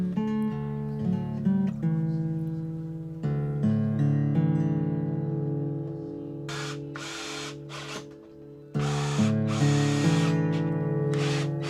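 A power drill drives screws into wooden boards for DIY storage shelves, with a couple of short bursts of whirring over a steady musical background.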